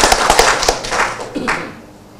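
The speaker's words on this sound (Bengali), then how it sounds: "ইকবালকে একটা হাততালি দিয়ে আপনারা সবাই" A small audience gives brief applause for producer Iqbal at a Bangladeshi film event, a scattered burst of close handclaps lasting about a second and a half before fading out.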